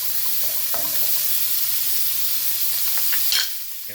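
String beans stir-fried with garlic and chili paste sizzle loudly and steadily in a hot pan, with light clinks of tossing and a brief scraping burst near the end, no talk.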